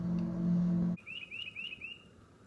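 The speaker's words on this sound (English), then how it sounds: "It's a loud bird." A loud bird calls outdoors near a lakeside cabin, giving four or five quick rising chirps in a row after a steady droning hum cuts off, with no talk.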